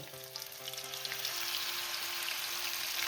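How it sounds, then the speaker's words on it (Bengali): Bok phool (hummingbird flower) pakoras frying in hot oil give a steady, dense sizzle with fine crackling throughout, close and continuous, with no voices. "এইভাবে আমি সমস্ত পকোড়াগুলোকে এক এক করে ভেজে"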